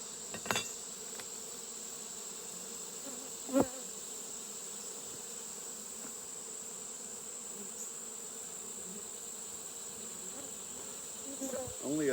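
Honeybees drone around an open Layens hive during an inspection, a steady close buzz with a few louder passes of single bees near the listener.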